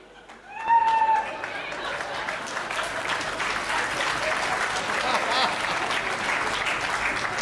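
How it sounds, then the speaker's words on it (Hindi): An audience claps at a Hindi comic poetry recital, breaking into strong, sustained applause that begins sharply and carries on steadily while voices talk over it. "अगर वो पसंद आ जाए तो ताली बजा देना"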